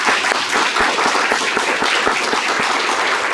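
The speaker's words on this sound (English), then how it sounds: "Let's give them a little round of applause" A roomful of people claps for catalog helpers at a presentation, a steady, fairly loud wash of applause with a few sharper individual claps standing out, continuing unbroken throughout.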